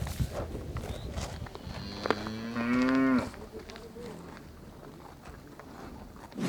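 A cow gives a single drawn-out moo lasting about a second, a little way off, over quiet outdoor background with faint rustling and no talking.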